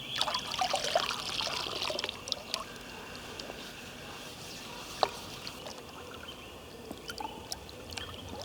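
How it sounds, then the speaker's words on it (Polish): Water trickles and splashes faintly as dishes are washed at the edge of an icy lake in early spring, with small clinks and drips scattered over a soft, steady outdoor background. "tu będzie wygodniej myć te naczynia"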